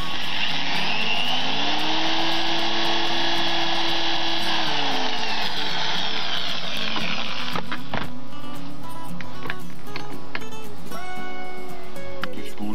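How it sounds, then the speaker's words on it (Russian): Power drill boring a mounting hole for a homemade fishing rod holder, a loud close steady whine that rises and falls in pitch before ending in scattered clicks and handling noise. "Сейчас засверлю отверстие для крепления"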